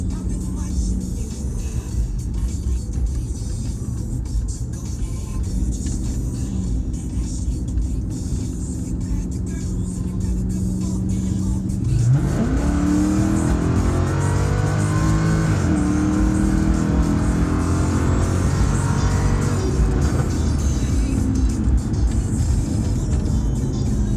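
Jaguar XF with a ported supercharger and new throttle body: a steady engine idle for about twelve seconds, then the engine revs hard and climbs in pitch, holding at high revs and falling and rising again several times, loud and close.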